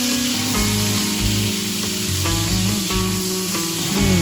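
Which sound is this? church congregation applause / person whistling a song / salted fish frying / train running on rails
salted fish frying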